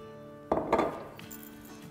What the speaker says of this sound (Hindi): यहाँ हमने एक पैन रखा है तो इसमें डाल देंगे अराउंड 2 टेबलस्पून के आसपास तेल